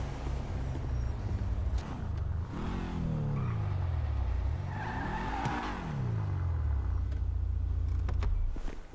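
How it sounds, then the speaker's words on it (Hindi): A car in the video game GTA V is driven into a garage. Its engine revs up and down in sweeping pitch changes, with a brief tire squeal, loud and close, and no talking over it. "एक बार गाड़ी अंदर लेके आते हैं।"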